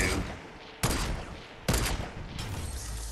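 A semi-auto sniper rifle in a video game fires three sharp, loud shots spaced under a second apart, each with a short ringing tail.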